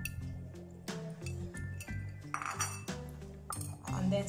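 Dissolved potash water being sieved while preparing ugba for an Igbo dish, heard as a series of quiet, close metallic clinks and scrapes of utensils against pots and bowls in irregular rhythm.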